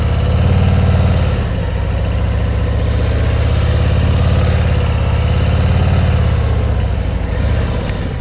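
A motorcycle engine running steadily during slow-speed riding practice, a loud, continuous low throb with slight rises and dips in revs, close to the microphone and without talk.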